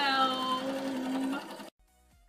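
A sewing machine stitches fabric in one steady whirring run of about a second and a half, close and moderately loud, then stops abruptly into near silence.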